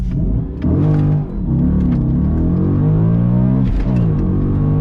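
A high-mileage Audi B7 RS4 with a V8 accelerates hard, its engine note climbing in pitch, dipping briefly at a gear change, then rising again, loud and close from inside the car.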